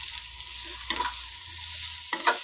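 Garlic sizzles in hot oil for a tempering of horseradish palya, a constant crackling fry broken by two quick scraping stirs of a spoon in the pan, close up with no voices.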